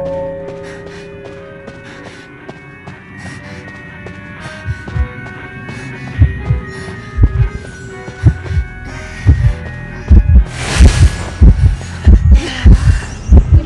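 Heartbeat warning from the Identity V game on the Moonlit River Park map in a Geisha hunter match: low, rhythmic thumps build in the second half, growing louder and denser over a faint hum and background tones.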